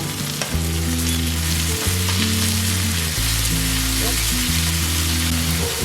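Two medium tomatoes go into a hot frying pan for capsicum gravy and set off a loud, dense, steady sizzle with stirring, close to the listener. A low tonal hum runs underneath and there is no speech.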